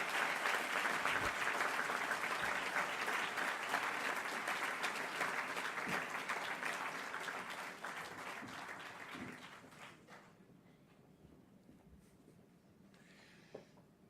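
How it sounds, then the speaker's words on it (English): An audience claps warmly and loudly for a speaker being introduced, sustaining for several seconds before gradually fading into a few scattered claps and near quiet. "a warm applause for Tomás Hornos"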